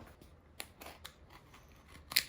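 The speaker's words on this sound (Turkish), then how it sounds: "Hadi gelin slime'ımızı keselim." Scissors snip through slime in a few close, quiet cuts, with short crisp clicks and a sharper final snip, no talk.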